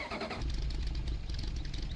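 A mod vehicle's engine starting in Farming Simulator 2015: a short starter crank, then the engine catching and settling into a steady, close, loud idle, with no talk over it.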